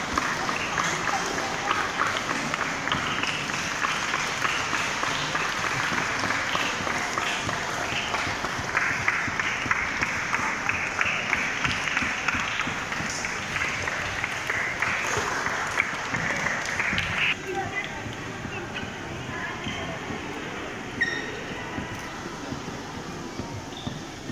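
Audience at a Telugu public felicitation event claps together in a sustained, dense round of applause that continues steadily for most of the stretch, then thins and softens toward the end.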